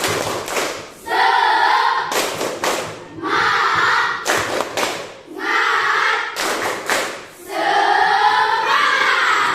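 A classroom of students performs a rhythmic spirit clap, bursts of sharp claps and thumps alternating with loud group chanting in several repeated rounds.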